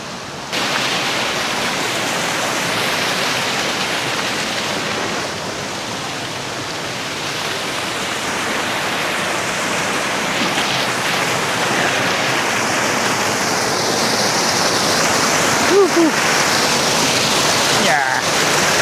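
River water at a private resort in Cavite rushes in a steady, loud broadband wash, continuous and unbroken throughout, like a strong current close by.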